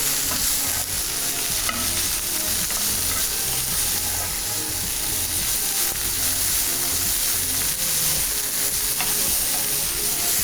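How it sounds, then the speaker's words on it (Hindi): Boiled shredded chicken is sautéed in a hot pan, giving a loud, dense, continuous sizzle with constant stirring and scraping throughout. No voices. "बस ये चिकन को हमने इस तरह से सौते कर लेना है"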